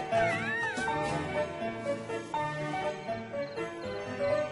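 A cartoon mother cat meows in a rising, wavering call, then a few softer mews follow over light background music.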